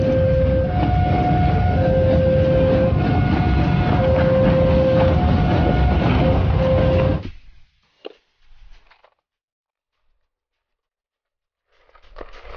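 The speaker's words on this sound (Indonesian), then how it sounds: "Kereta api." An electronic toy train plays chugging rumble and a simple tooting tune for several seconds, then stops abruptly, leaving faint rattles and handling noise.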